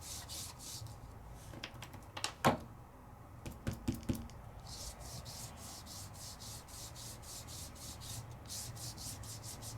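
Lumiere paint rubbed by hand onto an embossed surface, a faint repetitive scrubbing rhythm with a few sharper taps and knocks partway through, quiet and close.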